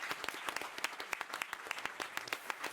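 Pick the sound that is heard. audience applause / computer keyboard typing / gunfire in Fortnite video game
audience applause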